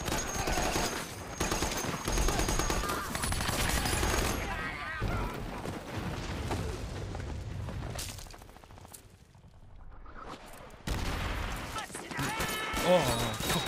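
Machine gun fire and battlefield gunfire in a WWII Iwo Jima combat scene from the TV series The Pacific, loud and dense with bursts, crashes and shouted voices mixed in, easing briefly before flaring up again.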